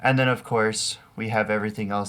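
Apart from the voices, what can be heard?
No everyday noises stand out.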